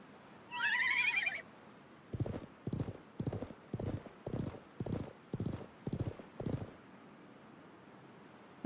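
A horse in the Wild West chapter of the game Live A Live whinnies once, then gallops past in a run of about nine evenly spaced hoof clops that fade out.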